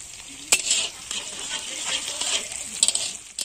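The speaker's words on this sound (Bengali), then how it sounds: "এখানে আমি আলুর দম চাপিয়ে দিয়েছি" Aloo dum potatoes cook in a pan with a soft, steady sizzle, broken by a few sharp clinks of a utensil against the pan, all heard close up with no talking.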